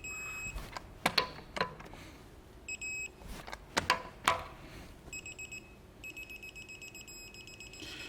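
An electronic torque wrench emits high electronic beeps, some in short repeated trains, while wheel bolts on a BMW are tightened, mixed with sharp metallic clicks and clanks nearby.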